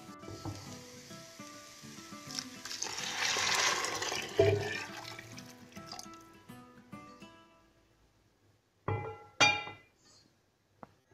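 Boiling water is poured into a pot of Turkish lentil soup with a sizzle and a rushing splash that swells and then fades, followed by a few sharp clinks of utensils against the pot.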